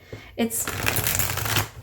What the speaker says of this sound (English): So we shall give it a shuffle.